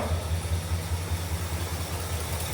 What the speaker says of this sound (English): You can hear how wimpy that exhaust is.